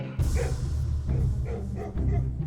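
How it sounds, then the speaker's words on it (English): A dog gives a series of low, strained barks and yips in a home, repeated in uneven bursts over a loud, rumbling background. "The dog made a strange barking noise."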